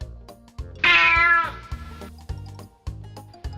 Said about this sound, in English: The new cat.